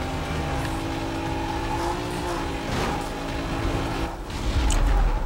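A Mitsubishi Eclipse race car in Need for Speed Most Wanted drones at high revs through a race, a steady loud engine tone with shifting pitch and a louder surge near the end, no voices.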